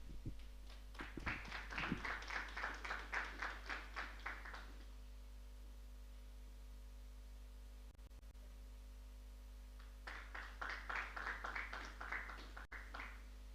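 Faint, distant applause for a choir at an Aymara church prayer service comes in two stretches of scattered clapping, separated by a quiet gap over a steady electrical hum.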